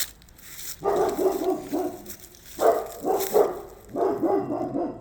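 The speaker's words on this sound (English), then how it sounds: "You can hear they have a big dog." A big dog barks outdoors beside a fenced residential property, loud deep woofs coming in three clustered bursts with short pauses between them.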